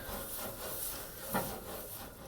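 An onion is rubbed back and forth on hot barbecue grill grates to clean them, giving a soft, steady scraping rub with a faint sizzle, close and without talk.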